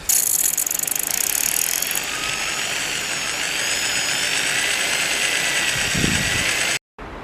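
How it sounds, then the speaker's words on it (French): Drill boring into a Smith & Wesson .38 revolver part, a continuous close, loud whirring grind with high-pitched mechanical whine, cutting off briefly near the end, with no speech. "Je vais essayer de percer, on va voir si ça fonctionne."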